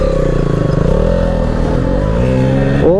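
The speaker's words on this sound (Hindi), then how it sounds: "तो चलो भाई बाइक वगैरह स्टार्ट कर लेते हैं।" An RS200 motorcycle engine runs loud and near at a steady, throbbing idle, then gives a quick rev near the end.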